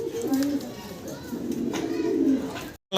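A pair of black Bombay pigeons coo in low, throaty rolling calls, close by, with several cooing phrases in a row and faint background voices.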